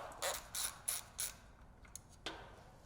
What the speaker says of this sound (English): remove the fastener securing the battery bracket